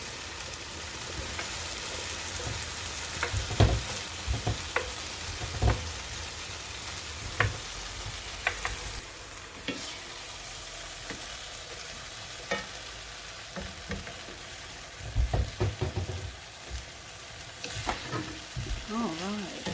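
Ground beef sizzles steadily in a frying pan while a spoon scrapes and knocks through it in irregular strokes, close and moderately loud, with faint talk at moments.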